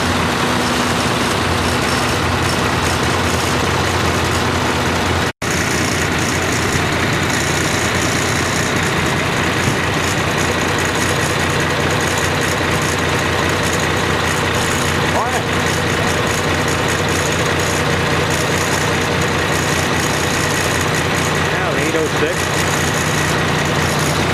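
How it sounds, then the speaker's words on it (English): A U.S. Navy industrial tractor, likely a converted W4, idles at an outdoor tractor show with a steady low engine rumble throughout, crowd chatter and voices carrying over it. "here's something you don't see often, U.S. Navy industrial tractor"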